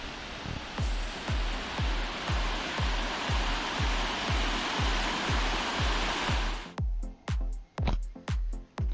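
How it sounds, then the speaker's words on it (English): Steady broadband rushing of Bash Bish Falls fills most of the clip, loud and continuous, with rhythmic low thumps throughout; the rush cuts off near the end, leaving only the pulses. "just admire the beautiful waterfall and listen"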